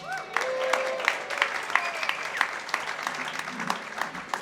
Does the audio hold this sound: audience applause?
yes